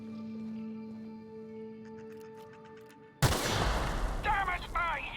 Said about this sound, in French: faut que je tire sur le bidon